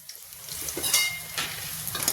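Soya pakoras sizzle and crackle in hot oil on a gas stove, a close, steady frying hiss with occasional stirring scrapes.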